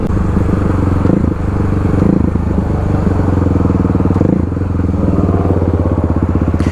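A motorcycle being ridden on the road, its engine droning loudly and steadily up close with a rough, pulsing exhaust note and wind rumble, rising and easing slightly as the throttle changes.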